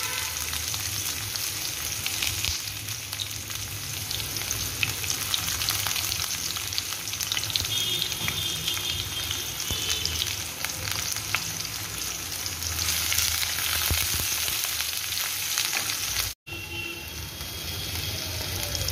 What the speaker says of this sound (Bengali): পেঁয়াজগুলো দেখো ভালো করে ভাজা হচ্ছে